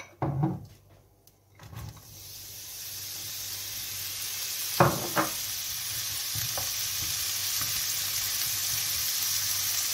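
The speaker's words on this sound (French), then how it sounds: "Et maintenant, on va cuire nos cèpes." Porcini mushrooms go into hot oil in a pan, a few clattering knocks and then a rising, steady sizzle that stays loud and close, with occasional stirring taps and no talk.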